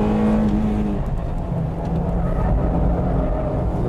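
A Honda Type-R engine revving hard through its VTEC range, a loud, sustained, steady engine roar at close range with a slight dip and recovery in pitch.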